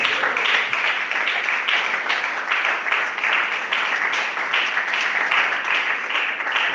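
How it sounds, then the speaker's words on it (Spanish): A church congregation applauds together during an evening service: sustained, dense clapping from a roomful of people that holds steady throughout, with no speech over it. "Denle un aplauso al Señor en esta noche."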